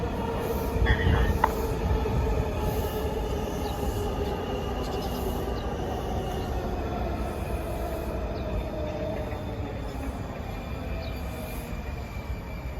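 A Shady Grove-bound Washington Metro train of Breda cars rolls past with a steady, loud rumble and faint wheel squeal, a continuous roar with high-pitched tones above it and no talking.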